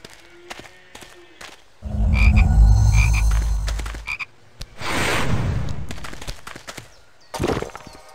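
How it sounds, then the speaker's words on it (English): A chocolate frog in the Harry Potter Chamber of Secrets video game gives croaks among short game effects, with two louder bursts of noisy rumbling. "You have to knock the frog out before you can catch it."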